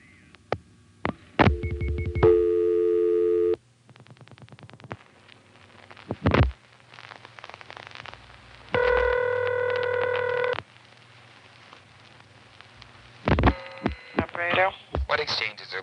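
Telephone call to the operator through a 1976 #5 Crossbar exchange in Fredericksburg, Virginia: clicks and relay thumps, steady ringing and signalling tones in separate bursts, with a low hum between them.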